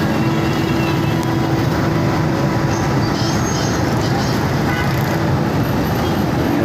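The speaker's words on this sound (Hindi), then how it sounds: "ये ट्रैफिक की सूरत हाल है जैसे कि देख रहे होंगे।" Dense city traffic at Korangi Crossing in Karachi after monsoon rain, a constant roar of cars, buses and bikes with occasional horn toots, loud and unbroken throughout.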